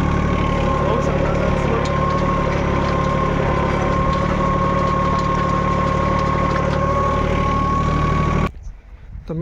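A Swaraj tractor engine runs steadily under load for several seconds, making a loud, dense mechanical drone with a constant whine, then cuts off abruptly near the end.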